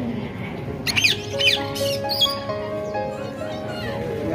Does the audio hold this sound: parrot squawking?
yes